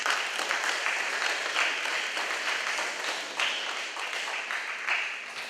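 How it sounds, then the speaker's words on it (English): Audience applause for a guest speaker at a DARE camp session, a steady wash of many hands clapping in a hall, moderately loud, with small swells, and no voices over it. "Please give him a round of applause."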